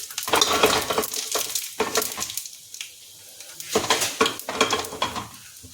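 Cumin seeds and green chillies sizzle in about a spoonful of hot oil while making bathua raita, a crackling fry broken by scraping stirs and a few clinks of a spoon against the pan, close and steady with no talk.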